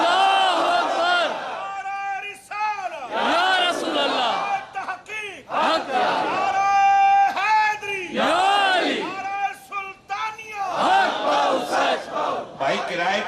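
A large crowd at an annual Urs gathering for Sufi saint Sakhi Sultan Bahu chants slogans in unison, loud, rhythmic bursts of many voices rising and falling, with a leader's calls between the collective responses.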